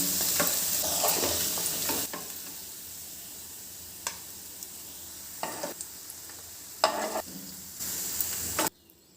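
Paneer cubes frying in oil in a pan: a soft continuous sizzle broken by several short scraping clatters of a spatula, ending abruptly in quiet.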